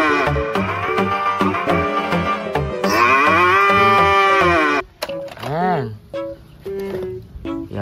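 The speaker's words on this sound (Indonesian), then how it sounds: "this is a cow" A cow moos in a children's animal and dinosaur show, one drawn-out, rising and falling low call heard over loud upbeat music, with an excited voice talking before it.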